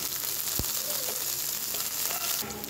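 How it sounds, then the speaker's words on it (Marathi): Garlic and green chili frying on high flame give a steady, close sizzle with broadband crackle throughout and one brief sharp knock near the start. "आता लसूण छान फ्राय व्हायला लागलेला आहे, छान गोल्डन दिसायला लागला आहे हळूहळू।"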